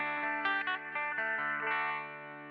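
Electric guitar played through a Kemper profiler set to a Laney amp tone, in the style of a Lionheart: clean-to-crunchy chords with chorus-like shimmer, a steady sustained strum with a few picked accents, close and full.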